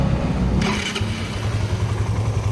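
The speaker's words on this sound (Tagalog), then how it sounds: "So papa-startin ko na yung makina." A Raider 150 motorcycle engine is started, a short crank giving way to a steady low idle that runs on close by, loud and even with no talk.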